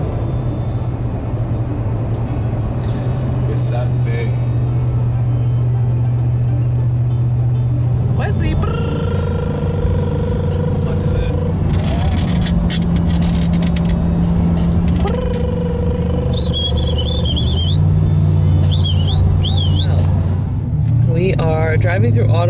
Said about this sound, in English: are driving through Ottawa, and it feels like it is taking forever